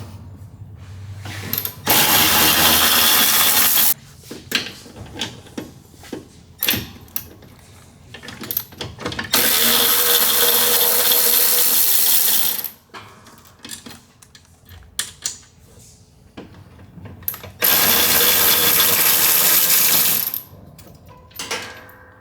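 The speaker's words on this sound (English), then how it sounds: "then we'll want to remove the 4 pump bolts." Pump bolts being removed from a Rotax mini jet boat with a power tool, three long loud whirring bursts separated by quieter ratcheting clicks and metallic handling noises, close up.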